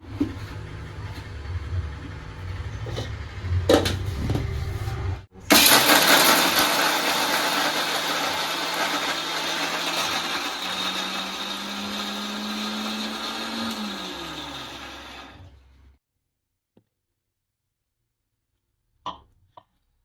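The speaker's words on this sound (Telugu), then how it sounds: "ఇప్పుడైతే మిక్సీ కొట్టేస్తాను" After a few clunks, a mixer grinder roars loudly for about ten seconds grinding fresh coconut chutney with tamarind, its pitch gradually shifting, then cuts out to near silence.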